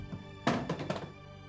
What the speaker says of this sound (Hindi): फोन क्यों पटक दिया?